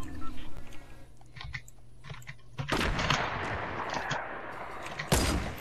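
Sniper rifle shots ring out in a Fortnite match, two sharp loud cracks about two and a half seconds apart, each trailing into a noisy burst, with quieter game noise between.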